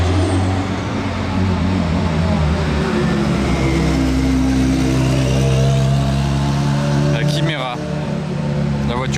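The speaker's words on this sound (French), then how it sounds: "il a l'échappement Brabus. En plus de ça, qui vrombit bien" A car fitted with a Brabus exhaust drones loudly on a Monaco street, its low engine note holding steady with a slight rise in pitch and rough bursts near the end, while people talk over it.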